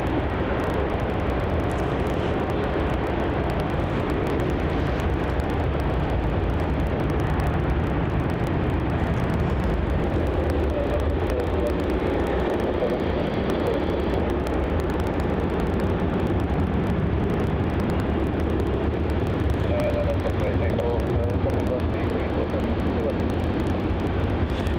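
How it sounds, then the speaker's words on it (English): A Virgin Boeing 737 rolls down runway 34 at Melbourne Airport on departure for Cairns, its engines a steady loud roar throughout, with someone talking over it. "As we have this Virgin 737 departure off to Cairns, now rolling down runway 34"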